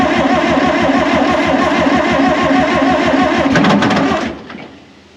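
The stuck supercharged two-stroke Detroit Diesel in a John Deere 440, long unused, cranks over with a loud, fast rhythmic chugging that runs steadily close by, then drops away abruptly near the end.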